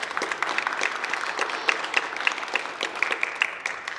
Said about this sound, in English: and Oliver, help us give him a round of applause, please.